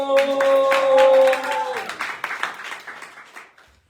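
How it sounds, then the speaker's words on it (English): A live slam poetry audience gives a round of applause, dense clapping and cheering that starts loud, tapers off over a few seconds into scattered claps, with a voice briefly over the start. "A round of applause."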